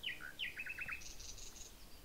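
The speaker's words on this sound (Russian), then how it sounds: "Компанию мне составили освежающий ветер да птицы, пение которых наполнило душу радостью." Several birds chirp and sing outdoors on a walking trail, a run of short tweets followed by higher trilling notes, moderately near against a soft breezy background.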